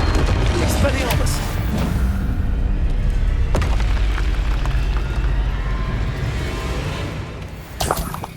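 An Expelliarmus spell cast in Hogwarts Legacy bursts out with deep booming whooshes and sharp cracks over a continuous rumbling game soundscape, with a final swishing flare near the end.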